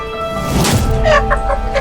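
A hen clucks in short repeated bursts during a TV crime drama scene, fairly close and loud over a busy background with music-like tones.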